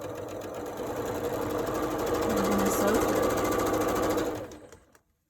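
A sewing machine stitches quilt pieces together in one steady, continuous run, its needle chattering close and loud before stopping abruptly near the end, with a person speaking faintly underneath.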